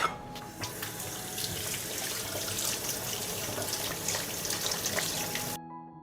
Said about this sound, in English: First, I'll wash the zucchini.